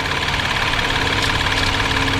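Engine of a Hyundai Grandeur IG running, a steady dense mechanical hum and rumble recorded up close with no pauses, loud and continuous throughout.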